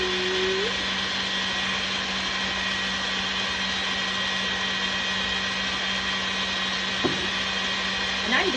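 A stand mixer whirs loudly and steadily at top speed, beating a chocolate marshmallow mixture, its constant motor drone filling the whole stretch with a brief knock near the end.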